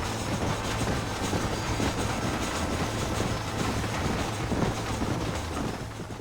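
Slow in-game train ride through the Mexico stretch of Red Dead Redemption: a steady rumble and rhythmic clickety-clack of wagon wheels on rails, continuous and fairly loud with no voices.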